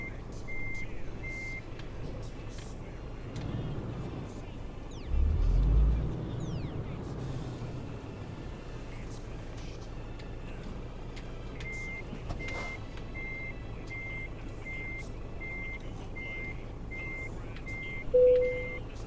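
A truck in Euro Truck Simulator 2 backs a short trailer with a steady, evenly spaced reversing beep that starts, pauses and then resumes for a long stretch over a low engine rumble, with a brief air hiss near the end.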